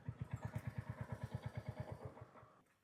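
A motorcycle engine running unevenly with a misfire, giving a fast chugging pulse of regular thumps that slows and fades out as the engine dies, close and fairly quiet.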